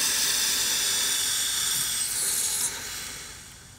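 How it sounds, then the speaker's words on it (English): A car A/C leak-detection dye can spraying from a loose connector, a loud steady close hiss that fades toward the end, with no talking. "the connector for the can with the dye in it is kind of loose, so it kind of sprayed as I was putting some in it"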